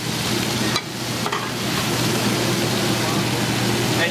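Meat sizzling and searing loudly on a hot grill after being smashed flat, a steady dense hiss with a couple of brief scraping breaks near the start; halal shawarma cooking setting in the Bronx.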